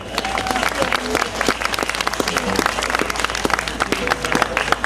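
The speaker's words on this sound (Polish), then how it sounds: "Jeszcze raz oklaski dla naszego Kazimierza" A crowd at a Kaziuki folk fair celebration breaks into loud, dense applause, many hands clapping rapidly and close, with cheering voices mixed in throughout.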